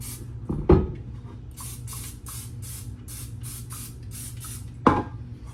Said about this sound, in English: I am going to spray my pans down